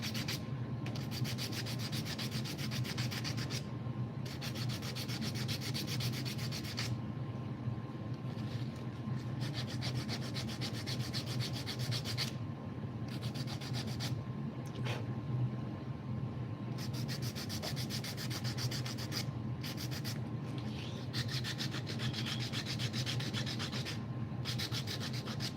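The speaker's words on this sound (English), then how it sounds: "Gotta hand sand off these burns." Hand sanding a sapele wood knife sheath to remove burn marks, with steady rhythmic rasping strokes close by, broken by brief pauses, continuing alone for the whole stretch.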